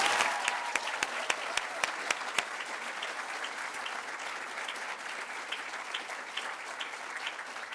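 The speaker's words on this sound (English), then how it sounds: "One more final round of applause, please, for our overall special award winners." At a senior school closing ceremony, an audience claps, with a few sharp individual claps standing out early before the applause settles into a steady, moderately distant patter that carries on to the end.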